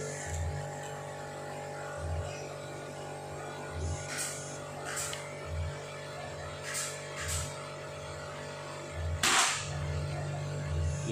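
Several sharp pops from a Redbul CNC Salome air rifle firing Hercules pellets spread across the clip, with one louder crack near the end, over a steady background hum.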